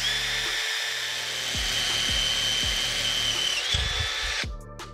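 A power drill bores a hole through a steel quad short shifter, steady whining drill noise running nearly the whole clip with a few sharp knocks underneath, then cutting off near the end.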